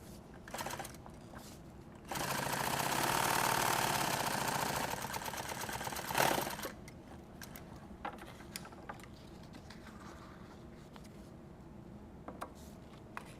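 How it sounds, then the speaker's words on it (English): A sewing machine stitches a hem in nylon fabric for a tactical gear build, running in one loud, steady whirring burst of about four seconds, then leaving faint clicks and handling noise. "You can just sew through here."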